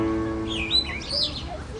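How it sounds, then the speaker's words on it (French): A short bird call made of a few rising and falling chirps, heard over a steady low musical drone with no talking. "On va entendre l'oiseau, il fait comme ça."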